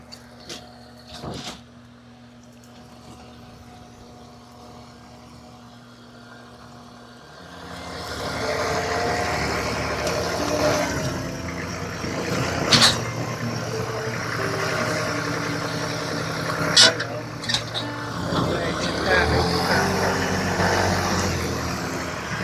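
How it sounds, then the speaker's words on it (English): A quiet stretch with a few knocks gives way to a tractor engine revving up and labouring steadily under load, close and loud, with occasional clanks. "Tractor just pulls it away like it's nothing."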